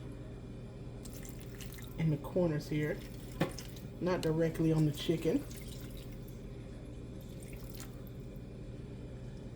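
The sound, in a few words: water poured into the corners of a baking pan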